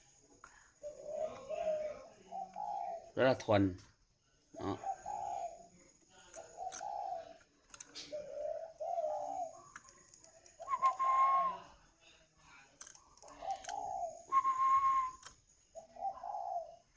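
Spotted dove cooing in a repeated series of soft, low phrases close by, with a brief clatter near the start and a few faint high clicks between calls; someone briefly speaks near the end.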